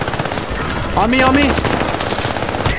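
Rapid automatic gunfire from a shooter video game, close and loud, with a burst of dense shots running under a brief spoken callout from a player.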